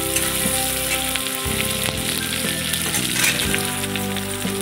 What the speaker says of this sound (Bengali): পটলটা হালকা করে একটু ভেজে নেব আগে